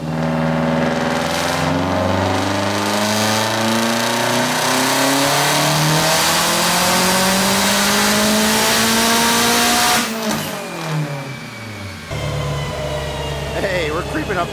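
A tuned Subaru Legacy GT wagon making around 500 horsepower screams on a dyno, its engine rising steadily in pitch through a long loud pull before dropping off and idling roughly, close and dominant.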